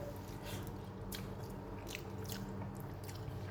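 Close, quiet chewing and biting of a piece of lunch dipped in gravy, soft wet crunches repeating steadily over a faint constant background hum, with no talking.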